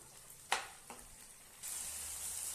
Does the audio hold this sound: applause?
no